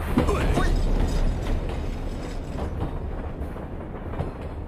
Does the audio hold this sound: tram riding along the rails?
yes